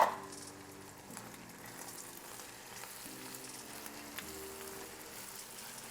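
Half an onion, a jalapeño and roma tomatoes fry with meats in a pan for charro beans, a soft, steady sizzle with faint crackles throughout.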